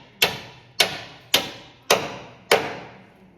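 A hammer taps a brand new pin into place: five crisp, evenly spaced metal strikes, each ringing briefly, close and loud with no talk.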